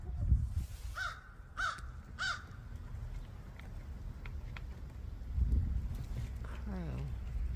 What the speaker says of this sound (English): There's a crow right there.